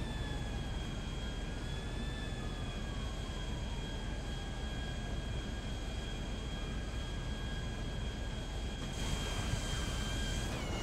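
An airplane engine in GTA V drones continuously and loudly, its steady tones sliding slowly in pitch, with no voices over it.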